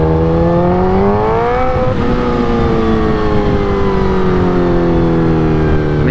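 A 2008 Suzuki GSX-R 1000 engine with velocity stacks and a bad clutch drones loudly and steadily at low RPM, its pitch dipping slightly then holding with a rough mechanical hum.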